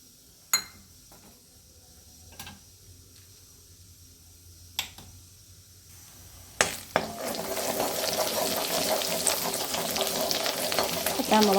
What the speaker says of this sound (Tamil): இப்போ இருப்பு சட்டியில் எண்ணெய் ஊற்றணும். எண்ணெய் காஞ்சதும் மிளகாத்தூள் போடணும்.